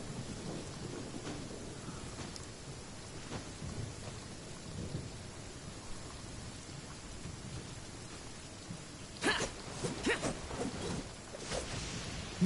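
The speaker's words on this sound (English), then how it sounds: "it's got a piss rain plus lightning" Stormy weather in the video game Genshin Impact: steady rain patter with several sharp thunder cracks and rumbles clustered toward the end, no voices.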